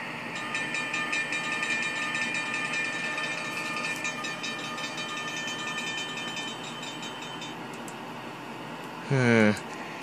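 A tram rumbles past with rhythmic clatter and a high ringing tone, then a short loud horn blast near the end.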